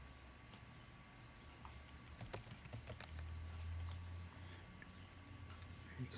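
Soft, quick typing on a computer keyboard, a run of light clicks and taps at close range with faint room hum beneath.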